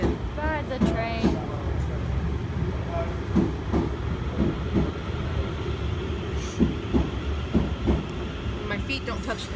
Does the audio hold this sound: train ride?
yes